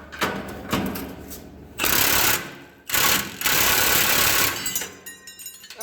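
A 1/2 inch impact wrench rattles against seized exhaust bolts on a Kenworth truck, firing in a couple of loud, hammering bursts of about a second each, separated by short pauses and quieter shop clatter.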